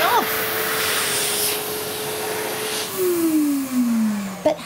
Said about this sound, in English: the hand dryer will turn on without us even having to press a button, like this.